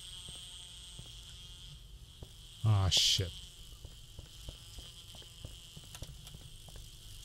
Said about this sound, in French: je me fais courir par une abeille